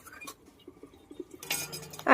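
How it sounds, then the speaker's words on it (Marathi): Utensils clinking sparsely as a pile of dishes is washed, light scattered metallic taps followed by a louder clatter and splash near the end. "लागली आता भांडी घासायला भरपूर भांडी पडली"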